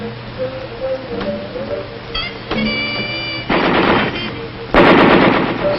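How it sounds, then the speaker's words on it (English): M60 machine gun firing on an infantry training range, with scattered shots and faint tones at first, then two loud sustained bursts of rapid automatic fire, the second one louder. "We spent a lot of time on the machine gun range with the M60."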